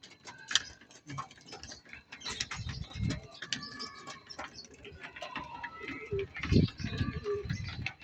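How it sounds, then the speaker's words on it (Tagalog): Racing pigeons coo in low, murmuring bursts amid light clicking and rustling, with a few louder coos close by. "At meron pa tayong ibon dito sa taas."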